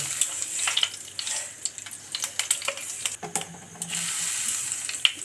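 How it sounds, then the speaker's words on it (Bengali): Nigella seeds sizzle and crackle in hot oil in a wok, giving a bright, close hiss broken by sharp pops and brief crackling bursts. "এবার আমি ওই তেলের মধ্যেই একটু কালো জিরে দিয়ে দেবো"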